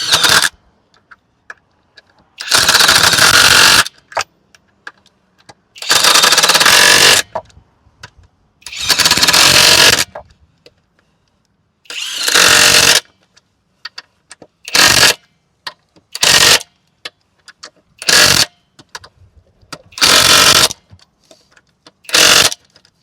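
A SNUOK 1838 half-inch impact wrench drives lug nuts in about ten loud, harsh bursts: longer rattling runs first, then shorter quick hits, separated by near silence.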